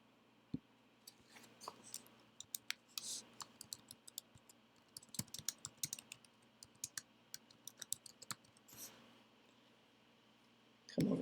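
Irregular bursts of computer keyboard keystrokes while composing a message on a ministry support page, quiet, close clicks spread across the whole stretch, with a few sharper taps and no talk.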